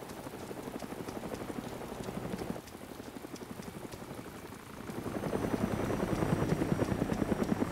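Helicopter in the video game DayZ, a steady rhythmic rotor chop that is moderately faint and continuous, briefly dipping then swelling louder, with no talk.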